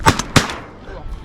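Two sharp gunshots fired at crows crack close by in quick succession, the second followed by a fading echo across open farmland.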